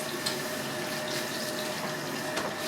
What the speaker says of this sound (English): So now we're going to rinse her out